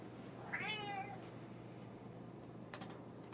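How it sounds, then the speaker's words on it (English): A single cat's meow, a rising then falling wail of about half a second near the start, heard indoors against steady room hum with a few faint knocks afterward. "uh-oh, cats."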